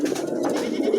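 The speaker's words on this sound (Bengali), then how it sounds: "খুবই চমৎকার একজোড়া কবুতর টয়া লাহোরি" A pair of Lahori pigeons coo softly and continuously at close range, a low warbling murmur rising and falling without pause, with no talk.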